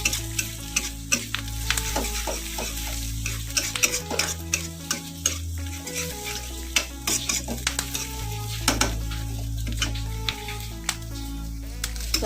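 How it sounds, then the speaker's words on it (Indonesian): Galangal and bay leaves sizzle as they are stirred in a pan, with a steady frying hiss, scraping utensil strokes and clinks throughout, close and fairly loud with no talk. "Aduk lagi."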